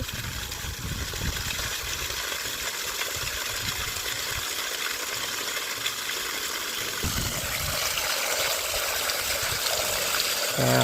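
Water flows steadily at low pressure from a tubewell pipe on a farm, a continuous splashing trickle heard close up and unchanging for about eleven seconds, with no voices.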